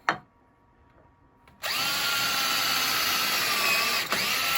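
After a sharp tap and a short near-silent pause, a power drill whirs up and drives a screw into a purpleheart wood blank, running steadily and loudly for a few seconds with a brief dip near the end.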